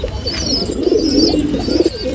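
Close, steady cooing from a breeder racing pigeon kept in a Nashik loft: soft, rolling low murmurs that swell and repeat through the moment, with light twittering in the background.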